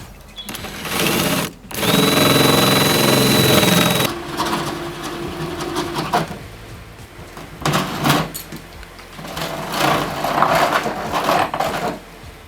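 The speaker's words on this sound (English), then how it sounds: "This goes against like every fiber of my being to drill through this nice siding that we just finished." A power drill bores through the newly finished exterior siding and sheathing of a DIY tiny house, with a steady high whine that rises and drops in bursts between pauses and thumping handling noises.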